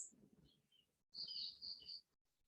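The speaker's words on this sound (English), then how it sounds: "Hear the bird songs." Birds sing in a garden: faint, high chirps and a brighter trilling burst in the middle, soft and somewhat distant, with no voices.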